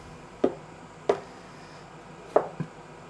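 A kitchen knife slices onions into fine strips for a weekly meal prep, four distinct chops at uneven intervals, close and fairly quiet, with no talking.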